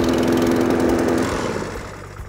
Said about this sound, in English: going to start the mower now